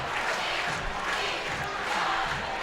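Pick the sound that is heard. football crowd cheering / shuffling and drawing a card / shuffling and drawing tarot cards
football crowd cheering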